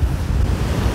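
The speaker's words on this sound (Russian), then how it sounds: "Почему-то удар моря приходится на них." Sea waves roll against a beach in a loud, continuous roar of surf, heavily buffeted by wind on the microphone.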